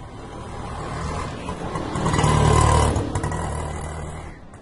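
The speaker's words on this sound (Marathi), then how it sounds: "That is a tempo." A tempo, a small goods vehicle, rumbles past with a low engine drone that swells to a peak midway and then fades, heard at moderate distance.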